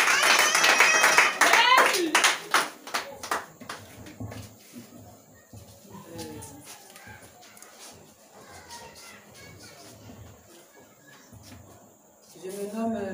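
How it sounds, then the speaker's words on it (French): A church congregation applauds, loud dense clapping at the start that fades into scattered quieter claps and murmuring, with a voice speaking near the end. "On acclame le Seigneur Jésus pour nos bien-aimés."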